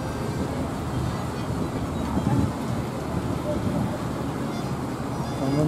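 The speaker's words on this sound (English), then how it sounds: "these rains are usually fairly short. They're like sudden squalls." A short, sudden rain squall over the Seine in the evening makes a steady, loud wash of hiss and patter, with low rumbling background noise throughout and no pauses.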